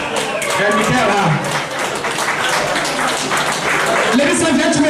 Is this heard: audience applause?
yes